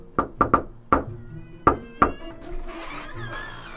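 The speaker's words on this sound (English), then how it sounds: "Let's knock on their door." Several sharp knocks strike a door in an uneven rhythm, loud and close, before a door opens and muffled voices and movement follow.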